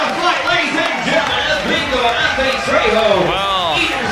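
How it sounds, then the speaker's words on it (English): Crowd at a boxing fight night roaring and cheering in the arena, a loud continuous din of shouting voices with excited commentators talking over it. "listen to this crowd"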